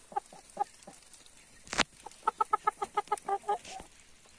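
Laying hens and chickens cluck close by in a quick series of short, regular clucks, with a few scattered calls before and one sharp burst in the middle.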